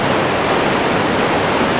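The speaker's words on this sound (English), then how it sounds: "So we're at the Yuba River crossing right now" High water rushing at the South Fork Yuba River crossing near Sugar Loaf Mountain, a loud, close, unbroken roar of churning river flow with no talking.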